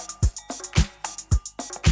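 A disco drum beat played on real acoustic drum samples: a punchy kick on each beat, crisp hi-hats between, and a snare cracking on alternate beats, looping steadily and alone.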